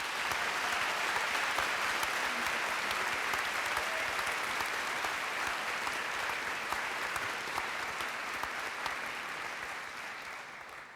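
Long, steady applause from a graduation ceremony crowd at Central European University thanking faculty and staff, a dense, even roar of clapping sustained throughout and easing slightly at the close.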